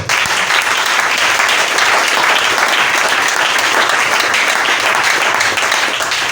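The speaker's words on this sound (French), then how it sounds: "Est-ce que tu peux acclamer le Seigneur?" A church congregation breaks into loud, sustained applause and cheering for the Lord, a dense continuous roar of clapping that fills the whole stretch without a pause.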